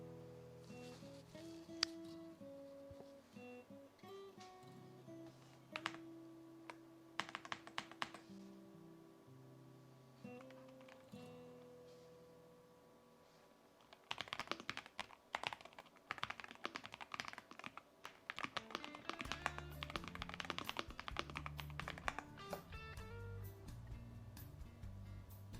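Bursts of clicky typing on a computer keyboard in a home kitchen, faint and close, with irregular runs of keystrokes and pauses, some tones and short sounds between them, and no voices.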